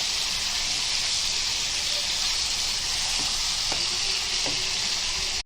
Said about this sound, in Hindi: बैगन को ये मसाले में अच्छे से भून के लेंगे।